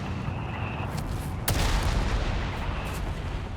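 A Pershing tank firing an attack round in Company of Heroes 3, one sharp heavy boom midway over a dense battlefield din of distant gunfire and rumble.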